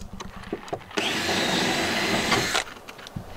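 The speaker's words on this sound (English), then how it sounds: "And I'll start drilling some holes." A power drill bores holes into a bus deck while solar panels are being installed, giving one continuous whirring grind of under two seconds, close and loud, with faint knocks before and after.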